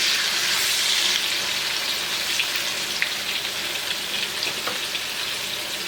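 Onions frying in a porcelain-coated cast iron skillet, a dense, steady crackling sizzle heard up close with no talking, holding an even level from start to finish.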